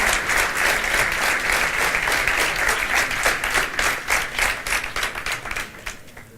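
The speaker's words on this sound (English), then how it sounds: "Let's give Birgitte a round of applause." A symposium audience gives Birgitte Bonnesen a round of applause, dense clapping from many hands that stays loud and steady, then thins and fades toward the end.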